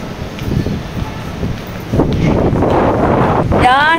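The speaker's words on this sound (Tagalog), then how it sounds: "Yan, hangin." Steady wind buffets an outdoor microphone, rough and loud throughout, growing stronger halfway through, blowing at a woman's curled hair. Faint voices sit underneath the gusts.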